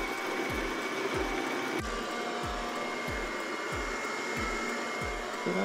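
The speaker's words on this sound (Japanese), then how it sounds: "エリア清掃を開始します" A robot vacuum cleaner starts area cleaning indoors with a steady motor whir and brushing hum, and soft repeated low thumps recur about every half second throughout.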